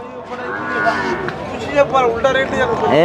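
A water buffalo lows close by amid a noisy buffalo market at Erragadda, Hyderabad, with people talking in the background.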